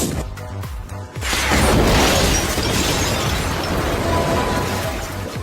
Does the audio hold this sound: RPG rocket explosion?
yes